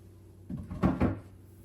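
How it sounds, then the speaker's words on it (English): A wooden kitchen drawer is lifted free of its slide rails, giving a short scrape followed by two close, dull knocks, with a quiet room behind it. "Just like that, we'll lift the drawer off."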